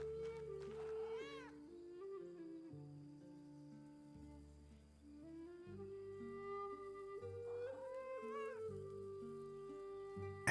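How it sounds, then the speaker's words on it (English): Repeated meows from a cat in the medieval-abbey video game Pentiment, two rising cries a few seconds apart, heard over a soft continuous bed of game music with no talking. "Cats! Ah! Pet the cat!"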